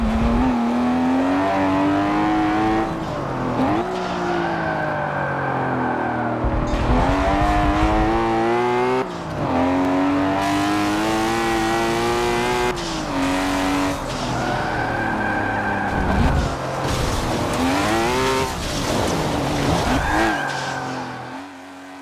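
A BMW E36 race car laps a track in Forza, its loud engine revving up through the gears with sweeping pitch rises and drops between shifts, plus occasional tire squeal.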